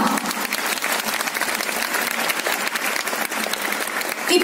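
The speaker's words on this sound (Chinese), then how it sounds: "我们再一次给我们的飞马士TanKimLee一个掌声好不好？" Enthusiastic audience applause for speaker TanKimLee at a regional leadership training seminar, dense continuous clapping from a large room filling the whole stretch.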